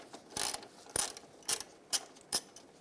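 A 13mm socket on a ratchet loosens a nut on a bracket of a 1999-2006 Chevrolet Silverado 1500 with a 4.8L V8. Five sharp ratcheting bursts come in a steady rhythm, close by, with no talking.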